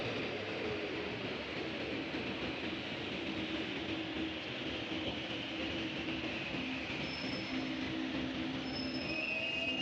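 A train rumbles steadily through a station, with faint high wheel squeals drifting in and out over a constant mechanical roar.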